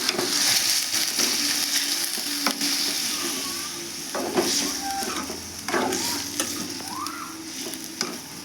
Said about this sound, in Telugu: నేను చికెన్ వేస్తున్నాను. ఇది ఆయిల్లో బాగా దీంట్లో ఫ్రై చేస్తానండి.